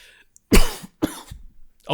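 Two harsh, close coughs in quick succession, followed by a softer throaty rasp.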